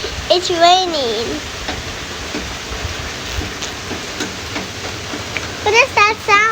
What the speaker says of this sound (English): What is that sound? The rain.